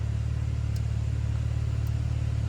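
BMW G80 M3 with a valve controller fitted, exhaust valves fully open, giving a steady close-up deep engine rumble at low rpm, continuous and loud with no talk.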